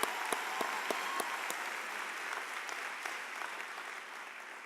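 Graduates at a commencement ceremony applaud themselves in a large crowd, with a steady wash of clapping and a few sharp individual claps standing out near the start.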